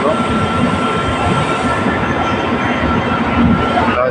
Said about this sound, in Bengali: রাজধানী এক্সপ্রেস যাচ্ছে। রাজধানী ঢুকলো, রাজধানী এলো